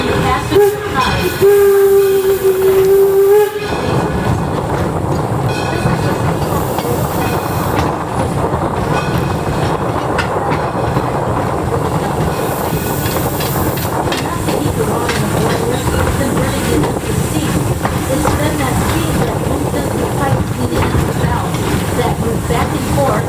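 A steam locomotive of the Detroit & Lima Northern Railway runs steadily with rhythmic clickety-clack and heavy mechanical rumble, opening with a brief whistle-like tone before the churning noise continues.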